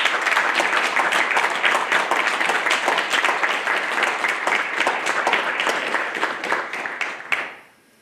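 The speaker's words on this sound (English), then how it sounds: "please join me in a round of applause for the Navy's newest 3rd class petty officers" Sustained applause from an audience of families and friends at a Navy Nuclear Field A School graduation for new third class petty officers, dense steady clapping that holds for about seven seconds, then tapers off quickly at the end.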